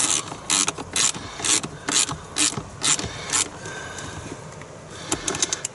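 Ratchet clicking in quick bursts while tightening a battery terminal on a Porsche Cayenne Turbo 955, close and crisp, in several short runs with brief pauses between them.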